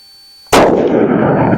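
A single loud revolver gunshot, its recoil heavier than a 9mm, cracks sharply after half a second of quiet, then a broad roaring echo hangs and slowly decays.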